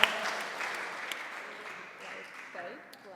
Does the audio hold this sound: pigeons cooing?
no